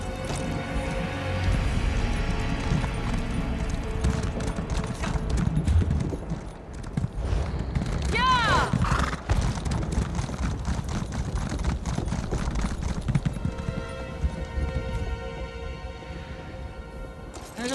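Horse hooves clip-clop in a steady, continuous rhythm while riding in Elder Scrolls Online, with dense in-game ambience and music playing underneath throughout.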